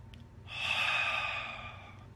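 A single slow, close breath during meditation, a soft airy exhale swelling and fading over about a second and a half, alone against a faint low hum.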